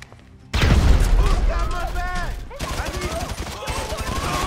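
A loud grenade blast bursts in after a brief quiet, followed by dense gunfire and a clamor of shouting voices during an armed shootout in Grand Theft Auto 5.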